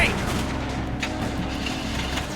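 A gunshot in The Walking Dead Season 1 by Telltale, a loud burst at the start followed by a steady, dense rumble of game audio with tonal music underneath.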